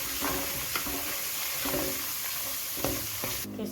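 Red chilli and turmeric powders are stirred through hot oil in a pan, giving continuous sizzling with repeated scraping strokes of the spoon at a steady pace, close and clear.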